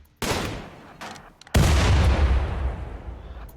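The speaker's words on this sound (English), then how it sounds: "that's a frag grenade" A frag grenade blasts in the RimWorld video game, one sharp burst followed by a second, louder explosion that rolls on in a long, heavy rumble, with no talk.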